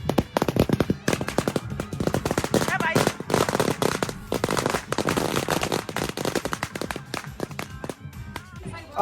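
Firecrackers burst at a traditional Himachali Pahadi wedding, crackling in loud, dense, rapid volleys that run almost without a break, with voices faintly mixed in.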